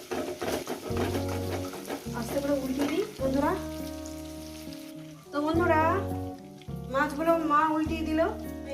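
Shimul tengra fish fry in a pan and get turned over for a spicy curry, with a steady close sizzle running beneath someone talking almost the whole time.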